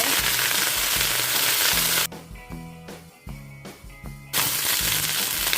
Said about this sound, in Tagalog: I will stir fry my beans.